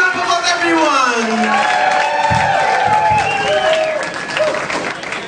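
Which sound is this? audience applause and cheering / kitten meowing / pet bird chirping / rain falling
audience applause and cheering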